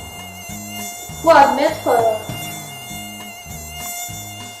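A mosquito buzzing close to the ear, a loud, steady high-pitched whine that runs throughout, over a repeating low pulsing background and a short stretch of speech.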